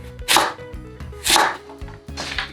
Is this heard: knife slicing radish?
yes